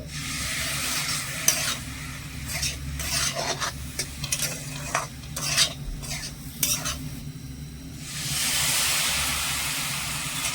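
Semolina mixed with small additions of water in a pan on the stove, with close scraping and stirring strokes in bursts, a light sizzle underneath, then a steadier hiss near the end.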